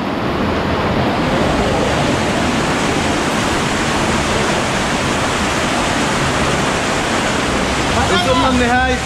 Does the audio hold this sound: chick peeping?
no